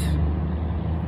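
A city bus pulls in and brakes, its engine rumbling low and steady with a short hiss of air brakes at the start, heard close by at a street stop.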